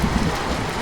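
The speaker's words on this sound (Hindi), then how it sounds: "एक तो ये इतनी ठंडी, ऊपर से इतनी तेज बारिश" Heavy, cold rain pours down in a Hindi cartoon, a dense loud wash of hiss filling the brief moment with a few low rumbling swells.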